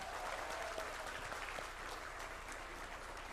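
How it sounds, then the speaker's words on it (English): Sustained applause from an audience at a nursing capping, badging and candle lighting ceremony, many hands clapping together at an even, moderate level with no voices standing out. "Let us give them and ourselves the warmest round of applause."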